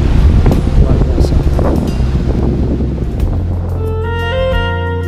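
Wind and ocean surf on a beach in Lombok facing the Indian Ocean, a steady broadband rush, loud and close, with faint voices of visitors; near the end a tonal musical sound rises over it.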